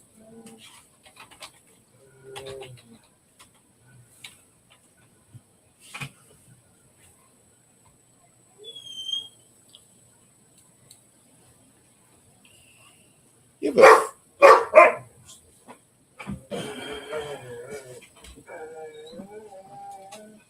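Dogs barking in a room, a few sharp barks grouped close together midway through, loud and near, with scattered quiet sounds around them and people talking briefly.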